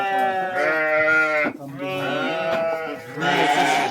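Goats and sheep on a remote village farm let out three long, loud, wavering bleats close by, one after another with short gaps.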